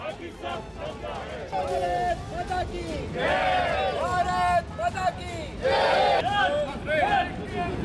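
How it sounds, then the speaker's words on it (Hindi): A protest crowd chanting slogans against China, in loud rhythmic waves of many voices shouting together, with surges of cheering and babble in between, heard close and continuous. "प्रदर्शन में शामिल लोगों ने चीन के खिलाफ नारेबाजी की।"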